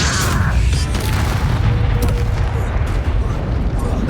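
Booming magical explosion from the Bombarda spell in the video game Hogwarts Legacy, a heavy blast that rolls into a dense, roaring rumble lasting several seconds, with faint voices underneath.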